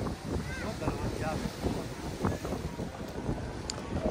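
Cold, gusty wind buffets the microphone in a steady, rumbling roar outdoors at a seafood dinner spot in California, with faint voices in the background.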